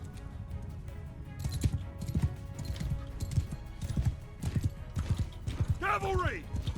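Cavalry horses gallop in the video game Mount and Blade Bannerlord, a dense, continuous clatter of many hooves with a horse whinnying near the end, under a voice speaking.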